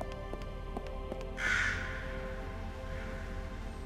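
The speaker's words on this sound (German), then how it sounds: "da fliegt jetzt der blöde Rabe" A raven in the video game Lost Horizon 2 gives a single loud caw against a steady hum of game background ambience and tonal music.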